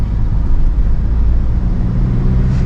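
A Tata Hexa SUV accelerates with its turbo kicking in, heard from inside the cabin as a loud, steady low engine drone with road rumble throughout.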